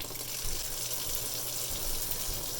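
An upstairs sink faucet runs in a house after a water heater cleaning, giving a steady, faint, continuous hiss of flowing water with no talking.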